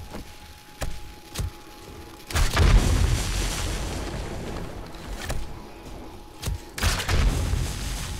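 Gunfire in the zombie survival game 7 Days to Die with the Darkness Falls mod. Sharp single shots are followed by heavier booming bursts that roll and echo, all fairly loud, with no talk.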